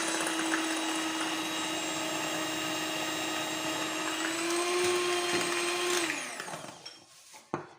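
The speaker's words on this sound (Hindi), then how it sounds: "आपने भी अगर ग्राइंडर में करेंगी तो सिर्फ 1 से 2 मिनट के लिए इसको अच्छे से बीट कर लीजिएगा" An electric grinder beats eggs and sugar for a simple oven-free cake batter, a steady loud whirring motor hum that holds for about six seconds, then winds down and stops with a final clunk.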